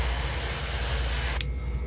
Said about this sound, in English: we're just going to go ahead and do a very light spray of these whites